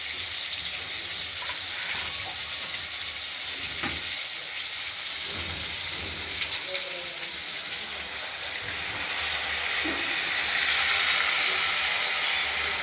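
Tomatoes fry with spices and turmeric in a pan for a paneer, potato and tomato curry. A steady hiss and sizzle carries light clatter and swells louder toward the end, with no talking.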